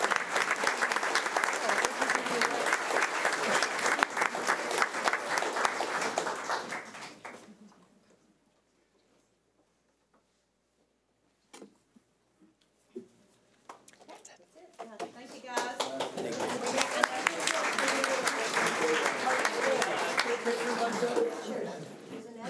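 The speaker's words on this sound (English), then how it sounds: "I'd love to give them a round of applause as well" Audience applause at a school board of education meeting honoring Corona Del Mar campus leaders: two loud bursts of sustained clapping separated by a quiet gap with a few isolated claps and small noises.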